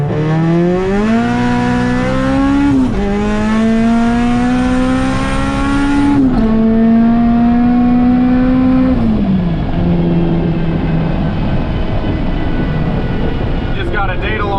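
A turbocharged Honda Civic Si tuned with Hondata S300 boost by gear accelerating hard on a dyno, the engine note climbing loudly through several gear pulls with brief dips at each shift, the tire spinning slightly, no talk.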